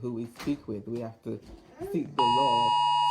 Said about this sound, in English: Sorry, that's my phone going off.